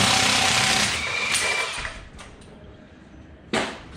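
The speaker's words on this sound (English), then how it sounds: "Got our impact. Got our lock socket." Impact wrench fitted with a 13/16 lock socket on a wheel of a 2007 GMC Sierra 1500 4x4, buzzing loudly in a rattling burst that fades out, followed by a single sharp short burst near the end.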